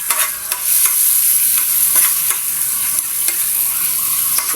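Garlic sautéing in oil in a frying pan, a loud, close, continuous bright sizzle with faint stirring scrapes, no voices.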